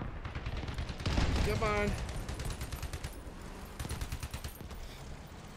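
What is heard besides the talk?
machine gun fire in a video game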